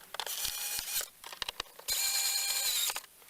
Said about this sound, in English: we'll put these 5mm Allen key bolts back in here